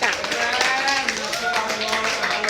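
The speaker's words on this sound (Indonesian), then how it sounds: "tepuk tangan dulu untuk kelompoknya Friska." A group claps for a student team at a classroom session, with brisk, dense clapping close by and filling the short moment.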